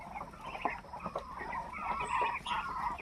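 Small roosters and guinea fowl clucking and calling together in a farmyard, a steady overlapping chorus of bird calls at moderate distance with no talk.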